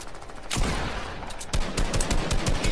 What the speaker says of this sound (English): Albert, throw the gas can at the building and shoot it.